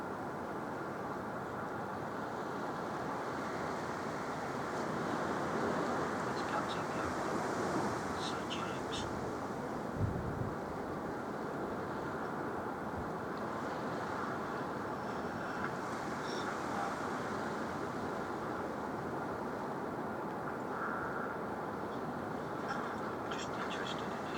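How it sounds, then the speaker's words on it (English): Steady wind in Whitby rushes and buffets the microphone for a long stretch, a constant roaring blow with occasional faint knocks and rattles. "It's very windy"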